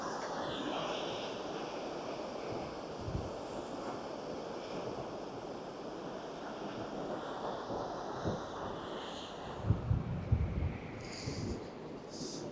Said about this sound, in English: Ship is churning up some water.